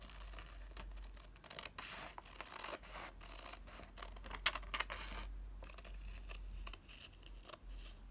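Scissors snip through paper clippings for a DIY phone case, giving faint, close, irregular crisp cuts and rustling scrapes against a low steady hum.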